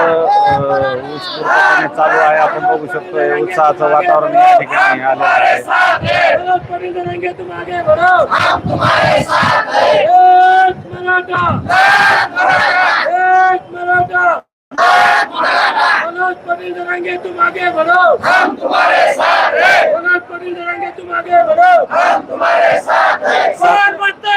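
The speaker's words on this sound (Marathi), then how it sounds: "एक मराठा लाख मराठाच्या घोषणा या ठिकाणी प्रचंड" A large Maratha crowd at a rally in Antarwali Sarati loudly chants "Ek Maratha Lakh Maratha" in a rhythmic, repeated call-and-response that fills the whole stretch with massed voices.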